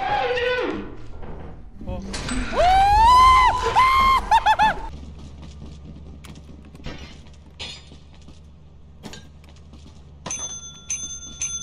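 A bell in the Lethal Company video game, struck again and again in quick ringing bursts among shattering clatter, metallic crashes and game noise, with tones rising and falling before quieter clicks and a few bright pings near the end.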